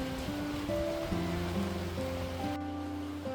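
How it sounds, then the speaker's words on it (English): Steady rain falling outside in Hai Phong, Vietnam, a soft continuous hiss in the background with a few tonal sounds layered over it and no talking. "It's still raining outside, and you might be able to hear the rain in the background."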